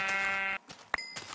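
A sheep in the video game Minecraft gives one loud, drawn-out bleat. A brief chime and soft clicks follow in the quiet.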